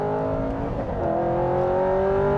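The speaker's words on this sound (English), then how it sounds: "It revs quite high, but it's got this filthy, dirty, bassy NASCAR run" An Aston Martin Vantage GT8 engine revs up in a deep, bassy, rising howl, loud and close, climbing steadily in pitch with no talking over it.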